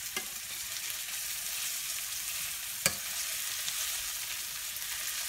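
Shrimp curry ingredients fry in a pan with spring mix greens, a steady loud sizzle running throughout while they are stirred, with a couple of faint utensil taps.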